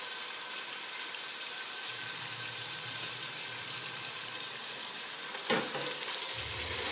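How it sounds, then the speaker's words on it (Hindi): Meat fries for a restaurant-style curry in a pan over full heat, a continuous close sizzle and hiss with a brief clatter near the end. "और अब इसमें ये मैं मीट डालूंगी।"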